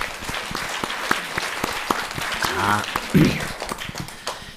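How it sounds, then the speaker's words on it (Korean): An audience at a Buddhist monk's question-and-answer talk applauds in steady, lively clapping, with voices speaking over it. "박수를 많이 주세요"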